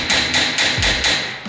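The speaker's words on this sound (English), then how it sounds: "Always use a brass hammer on the cartridge." A brass hammer taps the pins of a brake caliper on a 2005 Toyota Tundra. Four sharp, evenly spaced metallic strikes ring out close up, with no talking.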